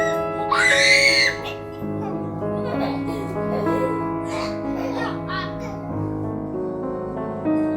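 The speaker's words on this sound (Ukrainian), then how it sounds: "Малий кричить у ліжку" A young child lets out a high, strained scream near the start, followed by whiny vocal sounds over a busy, loud background.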